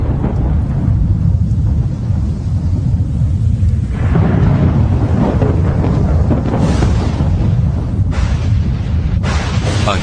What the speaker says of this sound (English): A bolt of lightning has been created.